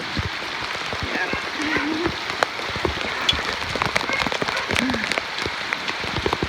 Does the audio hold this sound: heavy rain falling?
yes